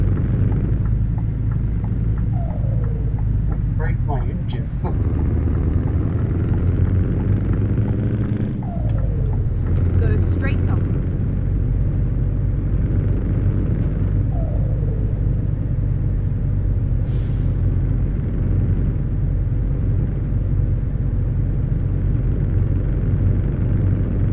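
Heavy truck engine rumbling and braking on the engine in Euro Truck Simulator 2, a deep continuous low-pitched drone with small chirps and clicks over it, loud and steady throughout.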